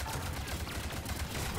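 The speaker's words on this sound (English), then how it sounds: "Just shooting at some guys every now and then. Shooting at the shield guys." Constant rapid gunfire in Mass Effect 3 aimed at shielded enemies forms a dense rattling stream of shots. It runs at an even level across the whole short stretch.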